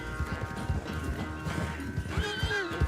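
Horse in Red Dead Redemption 2 during a train chase, rapid clip-clop of hooves pounding in a quick rhythm, followed by a drawn-out whinny near the end, close and moderately loud.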